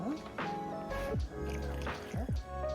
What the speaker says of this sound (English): Now I'm going to add in the pasta and the pasta water.